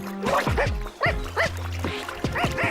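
A dog barks several times in quick, uneven bursts, close and fairly loud, with short yips between.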